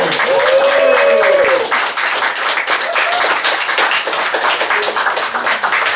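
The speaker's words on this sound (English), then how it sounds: "fucking clap your hands!" Comedy gig crowd at a Bournemouth venue claps and cheers as a comedian takes the microphone, loud close rhythmic clapping with a few whoops and shouts early on, settling into a dense steady applause.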